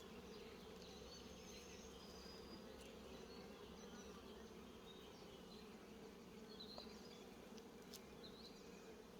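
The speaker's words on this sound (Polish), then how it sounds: "Fajne te pszczoły, spokojne." A dense swarm of calm honeybees buzzes continuously at a hive in a forest apiary, a steady close droning hum with occasional faint clicks.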